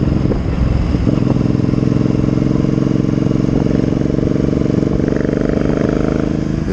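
A Triumph Speedmaster 865 cruiser motorcycle with fuel-injected engine idles nearby, then settles into a loud, steady, throbbing rumble with a rapid pulsing beat and a slight rise near the end.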